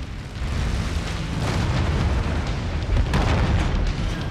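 An AC-20 autocannon pounding a Catapult A-1 mech in the MechWarrior 5 Mercenaries game, a loud, continuous rumbling barrage of heavy booming impacts with a fresh burst about three seconds in.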